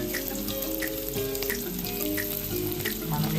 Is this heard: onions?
yes